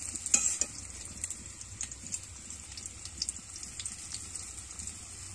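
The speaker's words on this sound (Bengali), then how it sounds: "এবার এর মধ্যে একটু জিরে দেব ফোড়ন," Cumin seeds tempering in hot oil alongside frying potatoes give a soft, steady sizzle with scattered stirring clicks and scrapes, fairly quiet and close.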